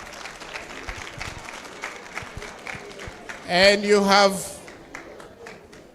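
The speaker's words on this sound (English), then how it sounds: "So clap for yourselves." Students at an inter-school business quiz clap for themselves, scattered light claps ticking through a quiet hall before a speaker's amplified voice briefly rises over them and fades.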